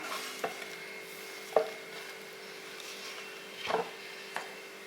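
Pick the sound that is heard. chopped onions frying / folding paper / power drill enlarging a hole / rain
chopped onions frying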